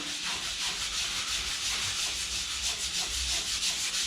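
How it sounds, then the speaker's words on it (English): Fine 220-grit sandpaper rubbing over dried joint compound on a plasterboard patch repair, a steady close, loud scratchy hiss of continuous back-and-forth strokes with no pauses or talking. "You just finally give it a final sand."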